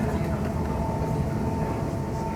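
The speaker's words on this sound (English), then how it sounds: "This is a train." A steady rumble and rolling hum of a train running on track at the Harry Potter Studio Tour, continuous and moderately loud with no breaks.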